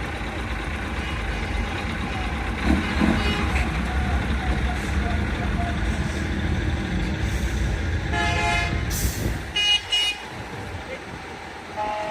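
Vehicle horns toot at a steam rally as engines rumble steadily underneath, with a cluster of short honks near the end over the continuous crowd and machinery background.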